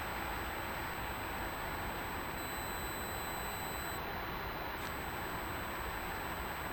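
An F-4E radar warning receiver in DCS handoff mode gives a continuous high-pitched electronic tone, faint and steady over a hissing cockpit rumble, with brief shifts in the tone partway through and no voices.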